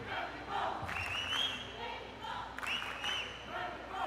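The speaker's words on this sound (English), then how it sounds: "As you can hear in the background, the Mexican crowd is into the game" A Mexican home crowd at a youth basketball game roars and chants steadily throughout, a dense wash of voices with rising shouts, not very loud and heard from a distance.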